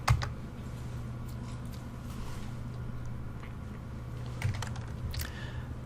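A few keystrokes while typing a new name into a Microsoft Excel 2016 spreadsheet on a computer keyboard: sparse, close clicks at the start and near the end over a constant low electrical hum.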